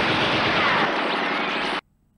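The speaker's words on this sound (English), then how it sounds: "Look at the bullets bouncing off of him." Rapid gunfire from the 1978 Superman film forms a loud, dense barrage lasting nearly two seconds before cutting off abruptly into silence.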